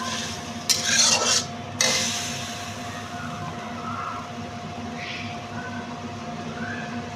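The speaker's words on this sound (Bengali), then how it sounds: "একটু গরম জল মিশিয়েছি মশলাটা ভালো করে ভাজবার জন্য, আর হলুদ গুঁড়ো দিলাম।" Spice paste fries in a pan with hot water and turmeric powder for a soybean biryani, a steady low sizzle under a couple of brief scraping stirs near the start, close and moderately loud, no talking.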